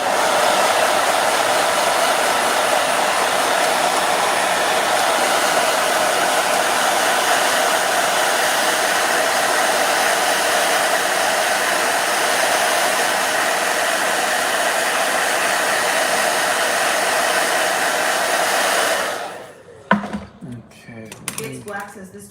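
Blow dryer running loudly and close for about nineteen seconds as a steady, unbroken roaring hiss, then cutting off abruptly, with a voice speaking briefly afterward.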